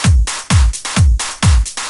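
A denser Fruity Loops drum loop for an instrumental, with more hi-hat: punchy kicks and crisp snare hits alternating in a fast, crowded, repeating groove, loud and alone.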